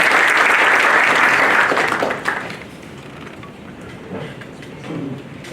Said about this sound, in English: A big round of applause for Janam.